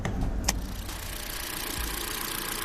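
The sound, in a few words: Toyota Corolla 4-cylinder engine running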